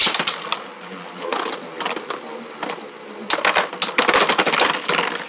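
Beyblade spinning tops clash in a stadium, sharp rapid clicks and rattling bursts of metal and plastic collisions, close and loud, coming in clustered flurries with brief gaps.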